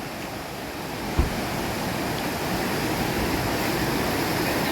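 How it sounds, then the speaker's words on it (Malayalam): Vilangad waterfall roars as a steady, dense rush of falling water, loud and unbroken from start to finish, with no voices. "നല്ല അടിപൊളി വെള്ളച്ചാട്ടം കേട്ടോ സൂപ്പർബ്"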